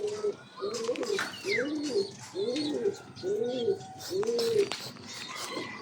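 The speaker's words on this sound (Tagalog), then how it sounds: "May mga ibon tayo sa labas" Pigeons coo outdoors in a steady series of soft, rolling calls, about six repeated phrases, with faint chirps and brief clicks mixed in nearby.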